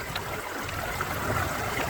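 Water sloshes and trickles in a gold pan tilted back to take in more water while gold panning in Colorado, a steady soft gurgling wash throughout with no voices.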